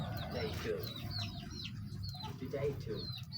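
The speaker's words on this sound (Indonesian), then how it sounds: "kata abang aku itu burung cicak hijau" A green leafbird in a backyard aviary gives repeated thin, sliding whistled calls over a steady rural background hum, with other birds faintly audible.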